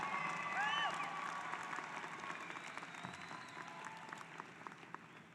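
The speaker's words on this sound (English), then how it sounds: "Could we give a big round of applause for yourselves who have been doing a great job?" A graduation ceremony audience claps loudly in a big sustained round of applause, dense and continuous at first, then gradually thinning and softening toward the end, with a few cheers in the crowd.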